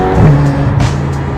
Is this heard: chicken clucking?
no